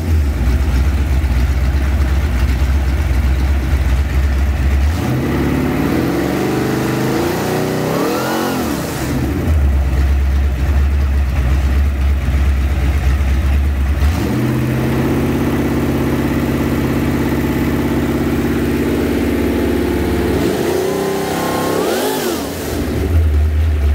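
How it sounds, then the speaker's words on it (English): A 347 cubic-inch Ford V8 in a 1965 Mustang convertible, fitted with a full pulley kit, idles with a deep steady rumble and is revved in two sharp bursts, each climbing and falling back to idle, loud and close with no talking. "Dominic Ginetti, the 347 Ford, their 1965 Mustang convertible. Ran absolutely perfect"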